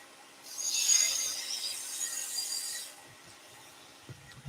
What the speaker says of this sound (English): now I can drop the handle, use the bottom of the gouge as a skew chisel